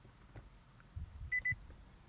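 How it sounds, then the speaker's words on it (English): A Nissan sounds two short, quiet electronic beeps in quick succession as the start button is pressed with the key fob, in an otherwise hushed cabin. "it will make a small beep"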